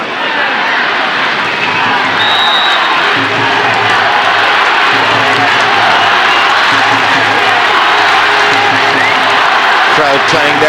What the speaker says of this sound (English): Crowd playing their part